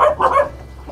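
Dogs bark at a house, giving three quick, loud barks close by that taper into softer yelps.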